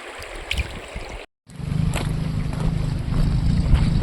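A mountain stream near the Mohakal temple at Jayanti flows and gurgles steadily, with a low churning rush that drops out briefly then returns louder and fuller, no talking.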